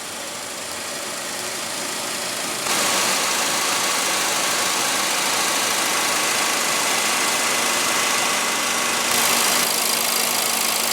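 A 2015 Volkswagen Beetle with a 1.8-liter turbocharged inline four-cylinder idles up close. It makes a steady, dense whooshing hum that rises slightly in level partway through, with no talking.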